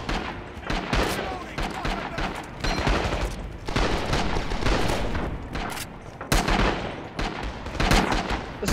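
Battlefield din in the World War game Rising Storm: dense rapid gunfire and machine-gun bursts with heavy booming artillery impacts, loud and continuous, with a sharp burst near the end.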